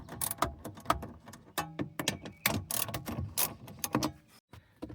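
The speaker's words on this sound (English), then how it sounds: "So I got all 4 of the bolts out there." Ratcheting clicks and metallic taps sound as 10mm bolts are loosened from the dashboard of a Toyota RAV4, with bursts of mechanical clatter and brief pauses between turns, close and moderately loud, no talking.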